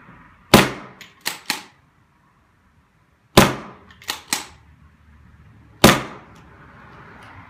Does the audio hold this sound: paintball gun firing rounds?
yes